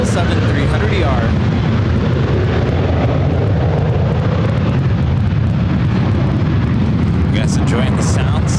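A Cathay Pacific Boeing 777-300ER on flight 882 from Hong Kong comes in to land, a loud, steady broadband engine roar filling the whole stretch with rushing wind, distant and unbroken, while people talk over it.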